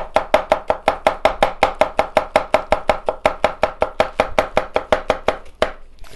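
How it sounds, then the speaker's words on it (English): A knife chops green onions on a cutting board in a quick, steady run of about thirty crisp, close taps that pause briefly near the end, with no talking. "so you're just going to chop them down small"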